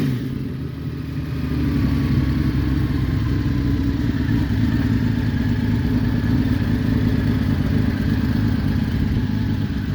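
A 1997 Honda Valkyrie's six-cylinder engine idles steadily while warming up, a smooth low, even rumble with faint mechanical clatter, close by and unbroken for the whole stretch.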